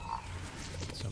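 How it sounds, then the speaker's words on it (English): Frogs croak in a Hogwarts Legacy game scene, a steady low chorus of ribbits with a faint higher tone running through the whole short stretch. "Some frogs."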